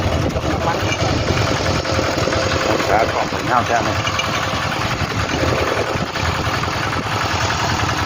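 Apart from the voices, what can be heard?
walk-behind tractor engine running, towing a trailer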